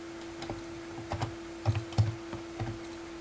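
Light, sparse taps on a computer keyboard, a few keystrokes at a time over a steady faint electrical hum.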